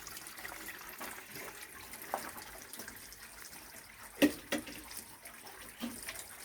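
Water carrying a prepared bacterial solution flows into drip irrigation lines on a chickpea field in Gujarat, a soft continuous trickle with a few louder splashes and gurgles.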